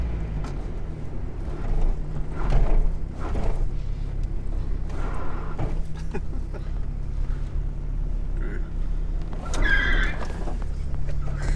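A supercharged Mazda MX-5 with a hydraulic handbrake slides, its engine droning loudly and continuously with rumbling noise and bursts of tire scrub, ending in a sharp squeal.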